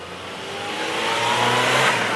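A BMW 335is with a single-turbo N54 engine and misfire problems, revved at full throttle against the brake, its roar rising steadily and loud over about two seconds.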